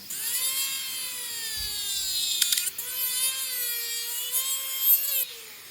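A dental rotary handpiece whines steadily while trimming off excess cured resin during work on a posterior bridge. The high, bright tone holds for several seconds with slight shifts in pitch and a brief dip midway, with no talking.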